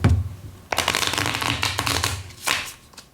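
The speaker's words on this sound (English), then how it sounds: "We'll do 1 more shuffle" Standard bridge-sized playing cards are shuffled by hand up close, with a sharp riffle burst followed by rapid fluttering and a second quick riffle.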